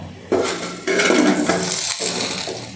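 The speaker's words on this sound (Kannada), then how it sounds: "ಇವಾಗ ಕುಕ್ಕರ್ ಲಿಡ್ ಹಾಕೋಣ." A metal pressure cooker lid is set onto the cooker in a kitchen, giving several close clanks and scrapes at uneven intervals, with no talking.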